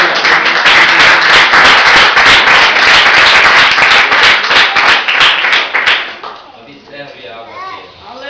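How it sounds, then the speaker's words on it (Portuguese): A church congregation claps loudly and briskly for about six seconds, then the applause falls away quickly, leaving a softer tail of scattered sound and voices. "aplauda Jesus com muita alegria."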